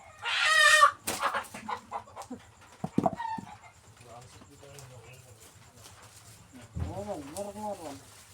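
A chicken on a farm where corn is being harvested gives a loud burst of clucking at the start, followed by scattered knocks, faint rustles and later another short run of clucks.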